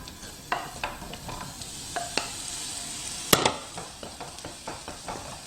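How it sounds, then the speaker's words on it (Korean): Onion frying in about a tablespoon of oil in a pan over medium-low heat, a quiet sizzle broken by sharp, repeated clacks of a utensil stirring against the pan. "자, 양파는 중간 불이나 약한 불로 볶아주세요."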